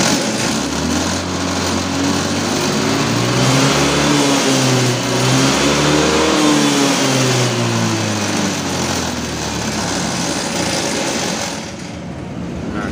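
A Honda motorcycle engine runs loud and close for the whole stretch, its pitch rising and falling through several revs before settling back toward idle near the end.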